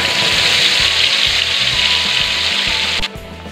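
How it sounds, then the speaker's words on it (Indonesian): Blended spice paste for ayam goreng balado sizzles loudly in a hot pan, a dense continuous frying hiss close by, easing off slightly near the end. "Sekarang tinggal kita tumis bumbunya"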